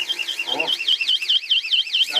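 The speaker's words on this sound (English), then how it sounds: "that's the alarm." A home security alarm gives a loud, rapidly warbling electronic siren that rises and falls steadily throughout, with voices talking beneath it.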